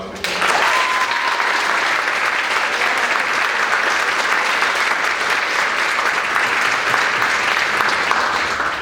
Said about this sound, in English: so how about another round of applause for him?